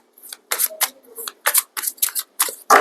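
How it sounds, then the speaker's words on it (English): Tarot cards being shuffled close by in a series of short, crisp papery bursts with brief gaps between them. "One more shuffle."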